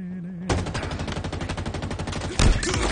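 Rapid automatic gunfire in Halo Infinite, a dense steady burst of close, loud shots running for a couple of seconds, then a louder heavier blast near the end.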